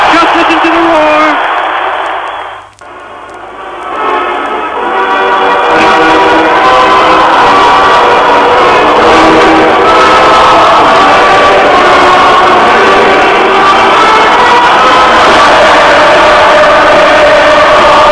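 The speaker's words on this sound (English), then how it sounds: "Just listen to the roar." A crowd roars steadily at the Arsenal vs Swindon Town football match, a loud sustained wash of voices filling the stadium after a brief dip near the start.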